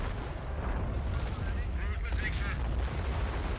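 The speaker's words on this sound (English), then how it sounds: "is taking some artillery strikes on its face." Artillery strikes land on a Wolverine tank destroyer in a North African battle in the Blitzkrieg mod of a strategy game, with a dense run of gunfire and booming impacts rolling continuously under a steady battle din.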